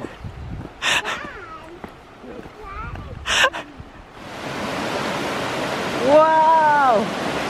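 A waterfall roars as a steady broadband rush, rising up after a quieter opening where people talk briefly, then continuing loud with a voice over it.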